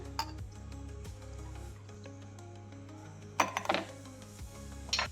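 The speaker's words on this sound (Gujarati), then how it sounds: "એક સ્ટીલનો ગ્લાસ લીધો છે અને આપણે 7 થી 8 ક્યુબ આપણે બરફના એડ કરશું" Seven or eight ice cubes drop into a steel glass, two bright bursts of clinking and rattling over a quiet background hum, the second shortly before the end.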